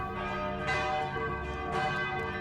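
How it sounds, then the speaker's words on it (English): A heavy bell rings steadily with rich sustained harmonics and two louder strikes, filling the clip alone with no voices. "I'll ring the bell."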